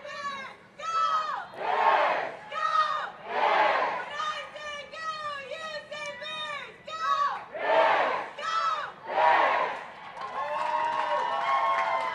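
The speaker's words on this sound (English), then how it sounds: "there was a cheer being led by Victoria Jones and Sophia Keel, 2 first-year students, supporting their team" A crowd of college fans at a women's soccer match between Saint Mary's and Cal chants a cheer led by two first-year students, loud rhythmic shouted phrases repeating in waves with the crowd answering.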